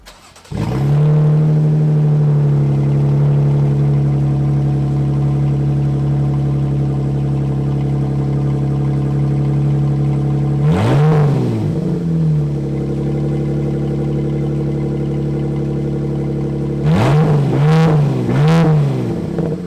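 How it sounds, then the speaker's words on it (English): A Jeep Grand Cherokee Altitude with a 3.6L V6 runs with its exhaust removed entirely, holding a loud, raw, droning idle close by before two sharp revs swell and fall back, the second a quick double blip near the end. "let's hear how it sounds with just the with no exhaust at all"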